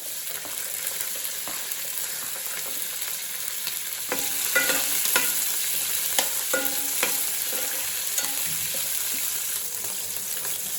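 Green chili frying and being stirred in a pan while cooking chicken pulao, with a steady close sizzle and clinks and scrapes of stirring growing busier midway.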